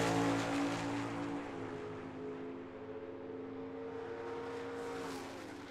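A Chevy Nova and a Camaro drag racing at Tucson Dragway, a loud roaring engine drone that holds steady then slowly fades as the cars pull away, heard from trackside with no talk.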